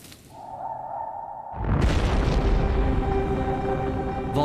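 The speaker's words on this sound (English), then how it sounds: "Volcanoes become more active, spewing out poisonous gases and clouds of dust" A deep volcanic eruption boom bursts in after a faint hum, then becomes a sustained, heavy rumbling roar that stays loud and dense for several seconds.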